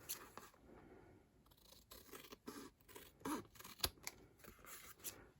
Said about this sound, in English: I'm just gonna go up there with my scissors